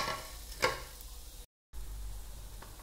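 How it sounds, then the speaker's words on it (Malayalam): Chopped tomatoes, two of them, dropped into frying masala for chicken curry, a steady sizzle with a brief stirring clatter, then a short dropout before the frying resumes. "നമുക്കിനി ഇതിൻ്റെ അകത്തോട്ട് നമ്മൾ അരിഞ്ഞു വെച്ചിരിക്കുന്ന തക്കാളി ഇട്ട് കൊടുക്കാം"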